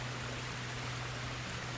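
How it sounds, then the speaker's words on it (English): A waterfall's rushing water pours out as a steady, unbroken roar with a low constant rumble underneath, and no voices are heard. "Why are we dealing with the sound of the water in the background and me trying to shout over it?"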